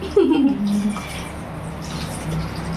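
Water is poured into a cooking pot holding a Tamil mixed kara kuzhambu with mango, drumstick, brinjal and egg, making a loud gurgling splash at first that settles into a steady flowing rush.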